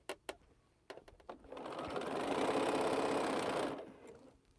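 A sewing machine stitches quilt rows together in a steady, loud whirring run of about two seconds, preceded by a few sharp clicks and short bursts, then stopping.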